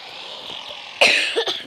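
A person coughs two or three times in quick succession, close and fairly loud, after a moment of low background hiss.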